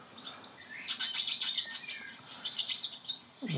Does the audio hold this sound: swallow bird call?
yes